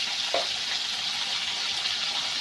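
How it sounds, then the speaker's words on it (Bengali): Drumstick (sajna) vegetable pieces fry in oil with salt and turmeric, giving a steady, close sizzle with a brief stir or clink near the start. "সজনে ডাঁটাটাকে ভালো করে ভেজে নিতে হবে।"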